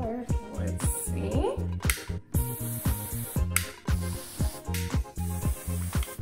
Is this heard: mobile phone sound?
no